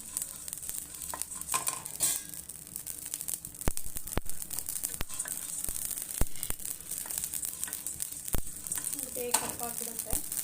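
Cumin seeds and black peppercorns frying in a pan, with a continuous bright sizzle, crackle and occasional sharp pops and stirring scrapes throughout.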